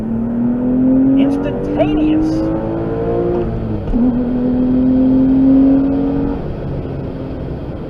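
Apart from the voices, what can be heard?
Porsche 996 engine accelerating with exhaust closed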